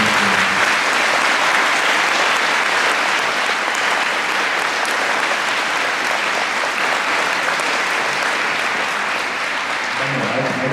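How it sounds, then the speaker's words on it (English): An audience at a middle school closing ceremony claps loudly and steadily for about ten seconds, a dense, continuous round of applause from a large crowd. "I'd just like you all to give them a round of applause because they did the best thing they could"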